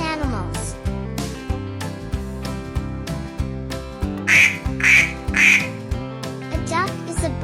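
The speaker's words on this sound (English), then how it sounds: "A duck is a bird with feathers and a flat bill." A duck gives three quick, loud quacks in a row, set against a bouncy musical backing with a steady beat.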